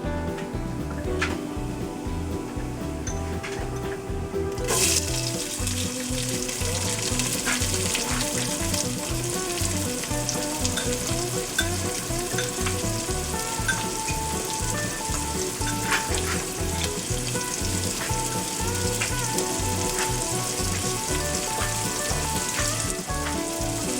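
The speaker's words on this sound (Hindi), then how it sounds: "अब ज़ीरा क्रैकल होना शुरू हो गया है, तो अब इसमें प्याज डाल देते हैं।" Onions frying in olive oil with crackling cumin seeds, a dense continuous sizzle with fine pops and crackles throughout, close and even, with a sharper clatter early on as ingredients go in.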